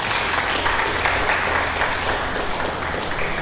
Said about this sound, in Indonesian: Berikan tepuk tangan yang meriah bagi Yesus.